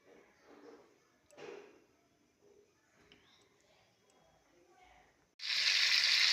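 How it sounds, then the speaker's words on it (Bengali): Prawns drop into hot oil and begin a sudden loud sizzle near the end. Before that there are quiet kitchen clinks and faint movement. "মাছগুলো ভেজে নিচ্ছি, অল্প অল্প করে মাছ ভেজে নিচ্ছি"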